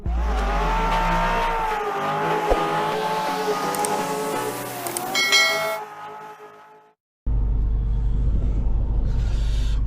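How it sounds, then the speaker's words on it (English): A 2019 Porsche 911 GT3 RS engine revs up with a rising, raspy wail from its factory titanium exhaust and induction howl from its side intakes, then cuts off before a deep idle rumble returns. "you get a mixture of the titanium exhaust from the factory and the side intakes with the induction noise"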